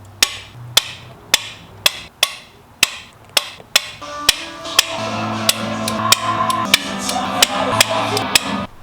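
A torque wrench tightening head bolts on a Toyota 4Runner 3VZE engine during a head gasket replacement gives a steady series of sharp, close metallic clicks about every half second, with a low hum underneath in the latter half.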